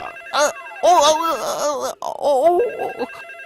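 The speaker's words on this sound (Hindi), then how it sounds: "अरे भगवान, फिर वो कॉल आ गया" A phone rings with an incoming call. The ringtone is loud, close and melodic, with warbling, wavering tones in repeated bursts separated by brief gaps.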